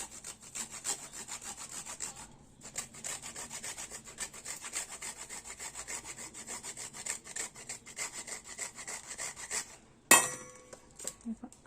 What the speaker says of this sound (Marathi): अशा प्रकारे हे खोबरं किसून घ्यायचं आहे